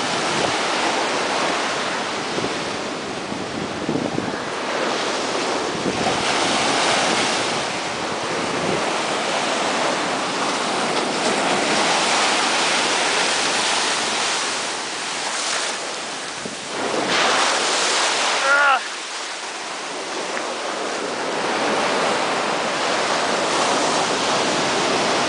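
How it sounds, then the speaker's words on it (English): Ocean waves break on the beach at Laguna Beach, California, with repeated surging washes of surf rising and falling, a strong crash near the end, and wind buffeting the microphone throughout. "it's hit and miss with these waves."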